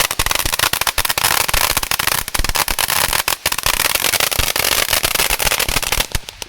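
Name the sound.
Black Cat fireworks fountain crackling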